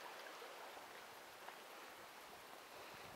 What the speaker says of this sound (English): It's a little creek, a little river.